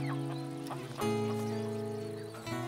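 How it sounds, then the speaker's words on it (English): Roosters and chickens cluck and call in a barnyard setting, with several overlapping fowl voices close by over steady background sound, loud and continuous with a brief burst near the start. "Or roosters, or chickens?"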